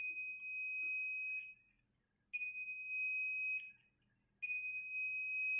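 A multimeter set to continuity beeps three times while a keyboard's connections are tested, each a steady, close, high-pitched tone lasting about a second and a half, separated by short silences.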